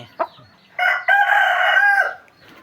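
A large free-ranging hen gives a single drawn-out, crow-like call, loud and close, preceded by a brief sharp click, with no talking around it.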